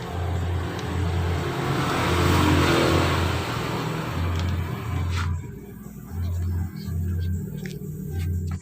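A 2018 Suzuki Satria 125 motorcycle engine runs during a repair test, a steady close mid-pitched idle that rises in repeated revving bursts with short pauses between.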